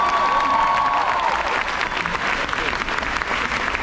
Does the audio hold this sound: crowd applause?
yes